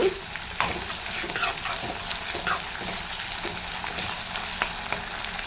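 Ginger garlic paste frying in a pan gives a steady, close sizzle, broken by occasional clicks and scrapes of stirring throughout.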